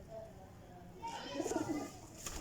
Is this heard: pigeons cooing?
yes